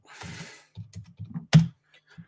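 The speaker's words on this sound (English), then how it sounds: "that was some hard typing punches" Hard, forceful typing on a computer keyboard, heard as a few quick bursts of heavy key strikes with short pauses between, one especially loud clack near the end, close and alone.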